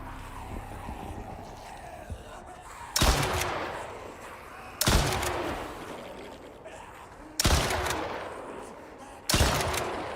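Gunfire in the survival game Icarus, heavy broadband blasts landing in four separated bursts at roughly two-second intervals over a steady rumbling game background, each shot sharp at onset and trailing off with echo.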